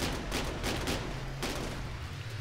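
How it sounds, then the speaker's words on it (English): Cannons firing in the vehicle-combat game Scraps, a dense rattling volley of repeated shots with rumbling explosions, steady and fairly faint throughout. "So my cannons can shoot anywhere"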